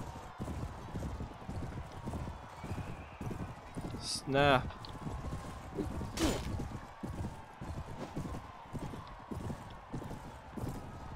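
Horse hooves in the Mount & Blade: Warband video game, a fast rhythmic clip-clop of a galloping mount close by, with a whinny partway through and a brief word from a player.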